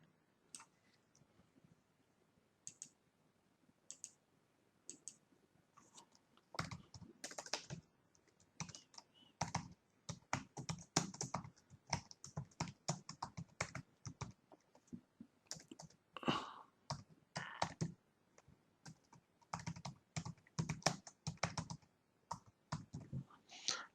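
Someone types on a computer keyboard, first in a few sparse taps and then in dense, irregular bursts of clicking keys, close and fairly quiet throughout with no talk.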